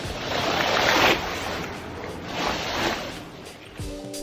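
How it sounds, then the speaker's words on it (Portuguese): Ocean waves rolling in along a shoreline, a steady broadband wash that swells around one second and again near two and a half seconds, with faint wind noise and no talking. "dá uma olhada no efeito hipnotizante que essas ondas criam"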